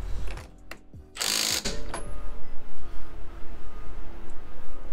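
A ratchet tightens the upper strut mount nut on an Audi, giving a burst of fast clicking pawl ratcheting followed by repeated rhythmic turning clicks, close and fairly loud.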